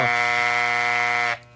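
A Soling Barber Pro hair clipper with its blade tension not yet adjusted runs with a steady, loud buzzing rattle for over a second, then cuts off abruptly.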